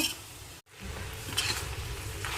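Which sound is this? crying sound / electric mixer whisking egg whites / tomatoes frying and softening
tomatoes frying and softening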